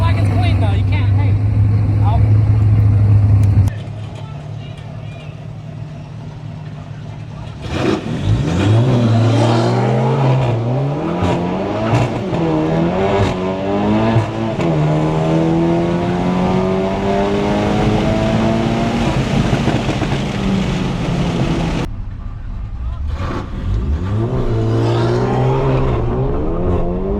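A Volkswagen GLI and a BMW race side by side, their engines revving hard and climbing through the gears with repeated rising pitch sweeps, loud and close, while people talk excitedly over the noise.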